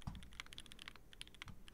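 Fingers type on a custom mechanical keyboard, a quick irregular run of close, crisp key clacks with no voices.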